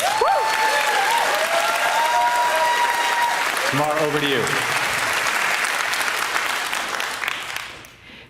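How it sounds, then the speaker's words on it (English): Audience applause at the Dreamforce 2022 conference in a large hall, a steady wash of clapping from a big crowd that continues under a short spoken handoff and fades out at the end. "let's give Janssen one more round of applause"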